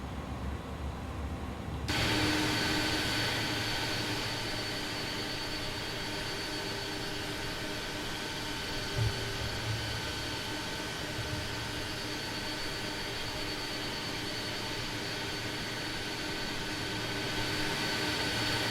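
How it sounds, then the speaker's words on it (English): Airbus A300-600 jet engines idling in a flight simulator game, a steady broadband whine and rumble that holds evenly throughout, with no voices. "So engines in idle, look at the speed, very steady."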